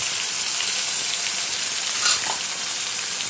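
Onion and garlic paste frying in a pan, giving a continuous bright sizzle, steady and close, with no voices over it.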